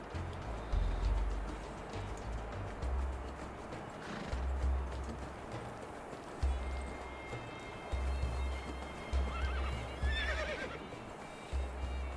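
A horse whinnies repeatedly in a video game over steady clip-clop hoofbeats, with a synthetic, game-like quality and a busy low rumble underneath.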